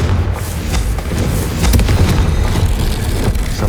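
A Confringo spell cast in Hogwarts Legacy erupts as a loud, rumbling fiery explosion with a dense low boom that lingers as a sustained roar for several seconds.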